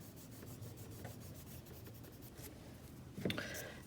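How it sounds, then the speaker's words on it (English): An eraser rubs over paper on a pencil portrait study, a soft, quiet, continuous scrubbing with a slightly louder burst near the end. "so I need to erase."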